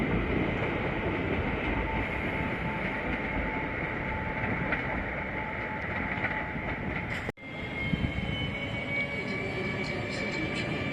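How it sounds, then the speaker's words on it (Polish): Intercity train to Berlin running through Wrocław Główny station on a May morning, a steady loud rolling rumble of railcars with rail squeal and clatter continuing throughout, briefly interrupted by a gap before resuming. "No i jedzie wreszcie Intercity Wabel do Berlina."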